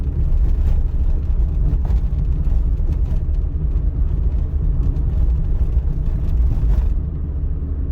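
Steady low engine rumble and road noise from a car driving straight along a city street during a driving test, constant and close throughout with no talking.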